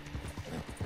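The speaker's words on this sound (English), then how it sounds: "I have the fastest horse in the game." Horse hooves galloping in Red Dead Online: a quick, rhythmic run of soft thudding clip-clops, about five beats in one second, close and steady with no talk over them.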